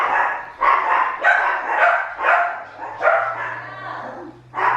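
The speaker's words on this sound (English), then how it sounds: "Dogs are going crazy." Several dogs bark in rapid, repeated bursts, loud and close, forming a continuous frantic chorus with a low hum beneath.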